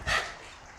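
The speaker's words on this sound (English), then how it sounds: "dog, you're making so much noise" Dog barking once, close and fairly loud, on a dairy farm among Jersey and Holstein cows, then trailing into quiet farmyard background.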